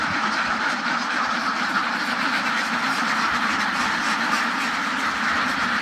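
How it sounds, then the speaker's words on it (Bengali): A dense, continuous chorus of about 3000 ducks on a duck farm quacking together, loud and unbroken, like a large flock close by. "প্রায় 3000 হাঁস নিয়ে একটি খামার গঠন করছেন।"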